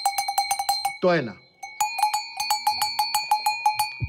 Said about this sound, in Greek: να ακούσω ένα κουδούνι